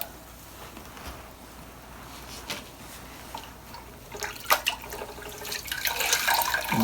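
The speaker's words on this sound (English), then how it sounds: "Now I'm going to get these rags wet." Hot water runs from a tap to soak rags during hammer veneering in a woodshop, a steady low hiss that grows louder and splashier toward the end.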